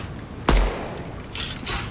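Gunfire in the online shooter Deadrop: a single sharp, loud shot with a quick decay, followed by fainter rumbling and hissy noise as the game action carries on.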